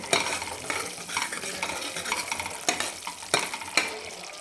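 Egg curry masala being stirred in a pan with freshly chopped coriander, a spatula working through it in continuous scraping strokes with a few sharper knocks against the pan over a soft sizzle.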